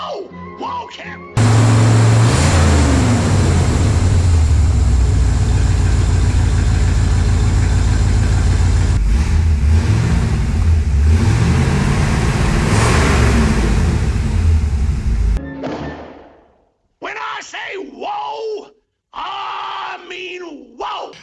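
A 1963-1967 Corvette engine fires up and runs loud and close, a deep rough idle with a couple of swells in revs, then cuts off abruptly; voices shout briefly before and after.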